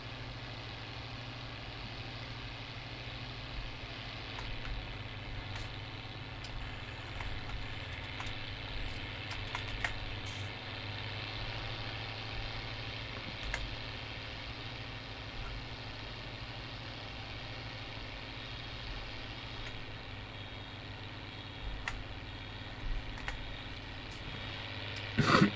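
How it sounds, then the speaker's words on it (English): Mercedes tractor engine idling in Farming Simulator 19, a faint, steady low drone that runs unbroken throughout, with a few small clicks. "This is a decent little tractor"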